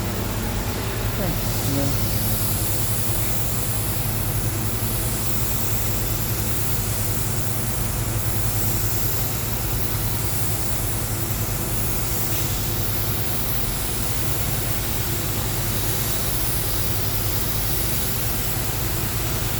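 A spray gun hisses continuously while painting the body of a 2012 Lexus RX 350 in a workshop, a loud, broad, steady spray that runs without pause.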